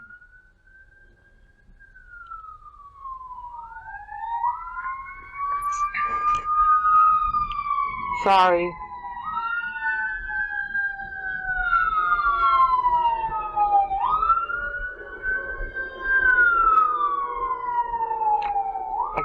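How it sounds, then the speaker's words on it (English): A police siren wails near a police station, its long rising and falling sweeps repeating and growing louder as it passes, with a brief burst of a second yelping tone; a person briefly speaks. "Oh boy, here's the siren again."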